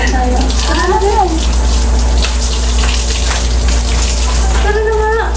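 Shower water runs in a steady, loud, continuous hiss, with short bursts of voices rising over it near the start and end.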